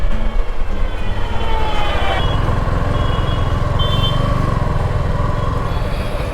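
A Suzuki V-Strom 250 motorcycle ridden on Kolkata roads at restrained, partial throttle, its engine drone and road noise holding close and steady throughout with no pauses.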